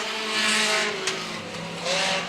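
Pure stock race cars battling on the Star Speedway oval, engines droning and revving loudly together with a sharp tire scrape partway through, no talk.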